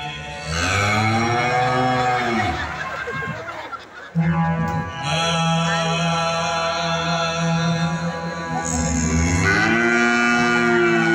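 A cow moos loudly again and again in long, drawn-out calls over a steady musical drone, at an outdoor cultural program held at St. Anthony's church in Semparuthivilai.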